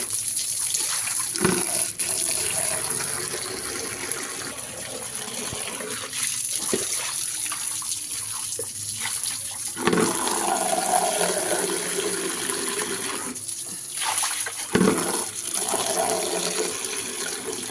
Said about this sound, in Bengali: এবার কলপাটটা জল দিয়ে ভালো করে ধুয়ে নিচ্ছি।